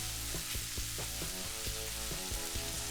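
Sausage frying in an old cast iron skillet, about eighty years old, with a steady close sizzle and spitting crackle throughout and faint rhythmic thumps beneath, no voices.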